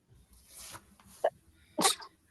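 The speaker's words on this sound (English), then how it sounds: "I'm going to sneeze." A short sharp inhale, a small catch of breath, then one loud, explosive sneeze up close.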